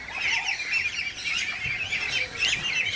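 Busy chorus of farm ducks quacking and calling over one another, fairly close, continuous chatter with no voices.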